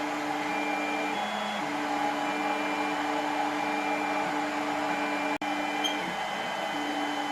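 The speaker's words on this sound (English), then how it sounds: "And here we are, we're printing" A Tevo Tarantula 3D printer runs a print, its stepper motors giving a steady close whine with shifting tones and a constant fan hum, with one sharp click near the end.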